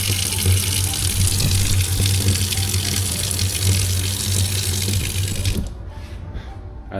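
Steady broadband rush of water pouring from a tap at a cool outdoor spot, loud and continuous for most of the moment before cutting off abruptly near the end, leaving quieter background.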